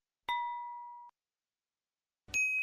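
Two bright electronic dings: a clear bell tone that rings and decays over about a second, then after a short silence a second, higher chime, each sounding alone against silence.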